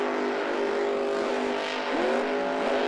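Grave Digger monster truck engines roar and rev loudly at a live monster truck event, a dense sustained engine drone with rising and falling pitch sweeps heard from a distance over crowd noise.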